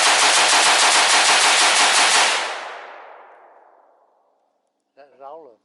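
Sustained rapid automatic fire from an AR-15 rifle outdoors, a dense loud burst lasting about two seconds that trails off into a long fading echo, followed by a brief voice.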